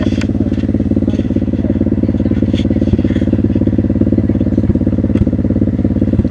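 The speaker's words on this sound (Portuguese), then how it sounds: "Ela tá de moto, ó." Bruna's motorcycle idles close by with a steady, even engine rumble and a faint mechanical clatter that holds throughout, no one talking.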